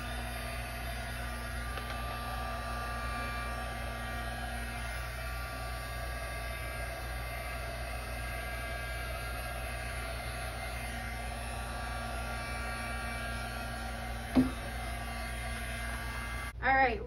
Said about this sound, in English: I'm gonna give it one last shot with the heat gun